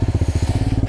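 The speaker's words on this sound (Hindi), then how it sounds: "बाइक पूरा स्लाइड करके जा रहा है, फर्स्ट गियर में।" A motorcycle slides downhill in first gear on a steep mountain trail on the way to Madhuri Lake near Tawang, its engine chugging in a fast, even rhythm of low pulses up close.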